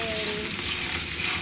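Shells frying in a pan give a brief, even hiss and crackle, close and continuous, with a faint stirring scrape.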